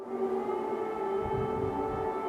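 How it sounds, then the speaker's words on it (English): A steady, droning air raid siren wails continuously across Ukraine in the morning, sounding distant and sustained with no voices. "Sirens in all regions wailed in the morning, waking Ukrainians from their sleep."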